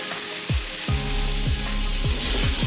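Sliced bitter gourd sizzles as it is stir-fried in oil in a pan over high gas, a steady hiss of frying broken by a series of scraping stirs at a quickening pace.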